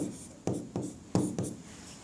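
Chalk or marker strikes on a classroom board during a physics lesson, four or five distinct close taps and short scrapes in an irregular rhythm, fairly loud against a quiet room.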